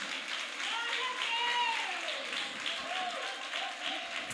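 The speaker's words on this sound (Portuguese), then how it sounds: "Alguém pode aplaudir pela vida do pastor?" A church congregation applauds in a steady wash of clapping, with voices and tonal vocal sounds rising over it.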